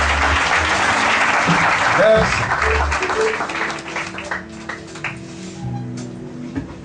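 A church congregation at a Saturday service applauds in a full, loud burst that fades gradually over several seconds. A voice speaks briefly over the clapping.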